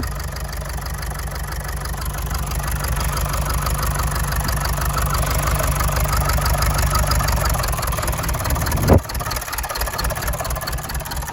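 A steady, rumbling Mazda 6 engine idles close by with a regular low pulse, then briefly sputters before settling back into its idle.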